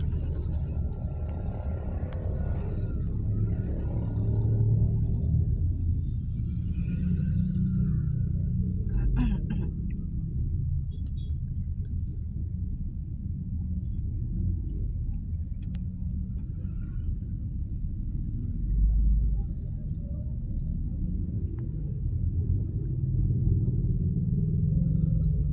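Cars crawl through slow, congested street traffic in the City of San Fernando, Pampanga, a continuous low engine rumble close by, with people talking over it.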